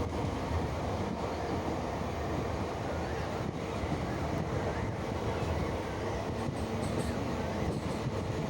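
A passenger train heading to Suri rumbles along continuously, a dense low roar with faint rhythmic rattling of the carriage, steady and loud throughout with no clear speech.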